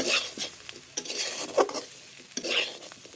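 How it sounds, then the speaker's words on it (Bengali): Potatoes and green beans are stirred and fried in a pan with turmeric and cumin powder, a utensil scraping in several distinct strokes over a steady low sizzle, with occasional clinks against the pan. "এবার সব কিছু ভালোভাবে মিশিয়ে নিয়ে আলু বিনস ভাজা ভাজা করে নেব।"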